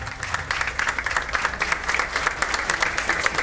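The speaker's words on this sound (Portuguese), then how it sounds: "bastante emocionados o receberam com aplausos" Family, friends and colleagues applaud a fire commander's coffin at a funeral in João Pessoa, a steady, fairly loud round of clapping with crowd murmur beneath.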